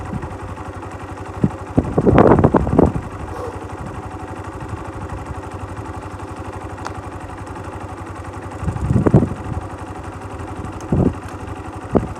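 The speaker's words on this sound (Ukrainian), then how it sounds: "трошки зараз газ потримаю, щоб він нагрівся" Viper R2 motorcycle engine idling steadily, with two short bursts of revving to warm it up, one near the start and one near the end, plus a few brief blips; no talking.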